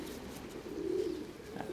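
A medium-sized, broad-bodied pigeon held in the hand outdoors in strong wind coos softly, one low murmuring coo rising in the middle against steady wind noise.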